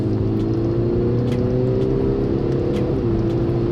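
An Audi SQ5 TDI quattro V6 diesel with Tiptronic gearbox pulls hard after a downshift, its loud, steady engine drone rising slightly in pitch throughout, heard close from inside the car with no talking.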